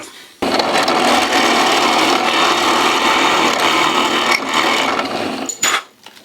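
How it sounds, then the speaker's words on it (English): A power drill grinds steadily through wood for about five seconds, a loud, continuous rasping whir that cuts off abruptly near the end. "the drill bit is really a bit blunt and probably needs replacing"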